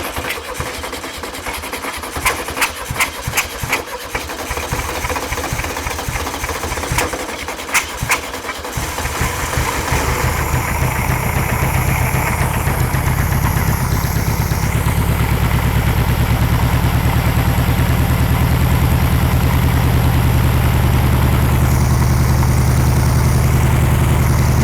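A 1500 air-cooled VW Beetle engine, unstarted for 50 years, is cranked with a few stuttering turns, then catches and settles into a loud, steady idle that holds close and continuous with no talk.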